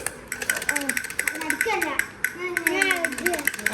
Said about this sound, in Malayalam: മോള് കയ്യടി